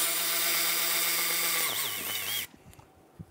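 A power tool spins brake caliper bolts loose on a 2012-2017 Toyota Camry, a loud steady whine that wavers in pitch and then cuts off abruptly, followed by a few faint clinks.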